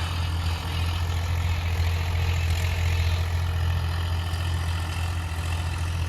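A tractor engine runs in a farm field during the first sowing, a loud, continuous low-pitched rumble that holds steady with no breaks or speech.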